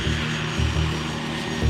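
The engine of an A-10 Warthog attack jet gives a steady, loud, low roar with a droning hum underneath, swelling slightly in places, with no voices.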